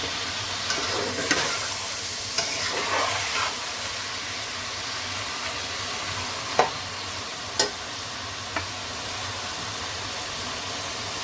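Tomatoes and spices are stir-fried for chicken pulao, a continuous sizzling hiss broken by scraping stirs and a few sharp spatula knocks later on, with no talking.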